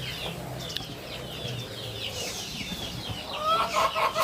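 Chickens clucking close by while being fed rice scraps on a home farm, with busy overlapping calls that grow louder and denser toward the end, over steady outdoor background noise.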